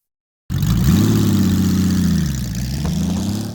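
A Honda Valkyrie six-cylinder motorcycle engine, fed by six individual 28mm carburetors, runs close and loud after a brief silence, holding a steady, smooth low rumble with a slight rise and dip in pitch.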